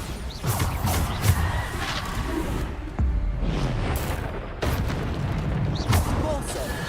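Bombarda explosion spells in Hogwarts Legacy boom repeatedly in loud bursts amid continuous combat noise, several heavy blasts spaced a second or two apart.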